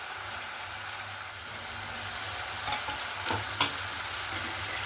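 Fried egg and banana flower koftas drop into hot spiced oil and sizzle steadily, with a few brief clattering stirs and scrapes near the end over a low, constant frying hiss.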